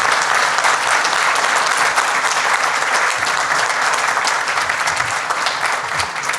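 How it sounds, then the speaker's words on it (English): A large crowd at a school board candidate forum claps loudly and continuously, a dense, even roar of applause with no talking over it. "Give them a round of applause."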